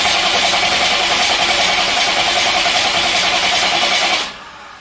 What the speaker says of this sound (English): I'll undo that and we'll just crank a bit of fuel through it.